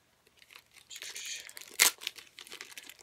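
Plastic sleeves and foam packing crinkle and rustle as Beatles replica records are handled, with one sharp crunchy tear near the middle and softer crinkles around it.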